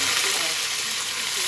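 Meat sautéing in hot oil sizzles steadily, a dense continuous hiss up close, brief and without pauses.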